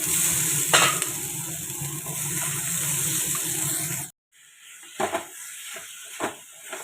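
Raw jackfruit sizzles steadily in a hot pan as it is fried and stirred, with a constant close hiss and small scraping strokes. The sizzle cuts off abruptly, followed by a few scattered clatters.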